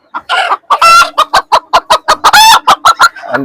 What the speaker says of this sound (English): This is called as white crested Polish cap.